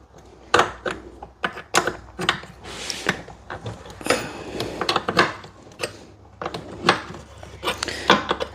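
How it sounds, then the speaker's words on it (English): Metallic clanks and ratcheting clicks of a wrench working the brake master cylinder bolts on a Saturn Sky, irregular close taps and scrapes of tool on metal in a garage, with a brief rustle of movement. "I'm going to go ahead and loosen up these other two bolts"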